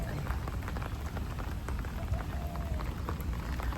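Steady rain falls outdoors in Hong Kong, a dense continuous patter with occasional close drops and no talk.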